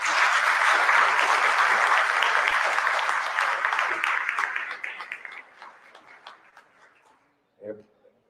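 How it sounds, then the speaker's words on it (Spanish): Audience applause after the introduction of a teacher at an education talk, a dense steady crowd clapping for several seconds before thinning into scattered claps and fading, with a brief final burst. "les pido a todos pues un fuerte aplauso."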